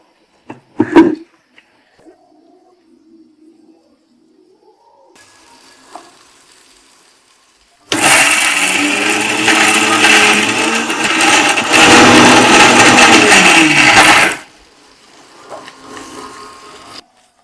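Mixer grinder jar grinding ridge gourd chutney ingredients, a loud steady whirring burst of about six seconds after some quiet handling clatter, then the motor cuts off.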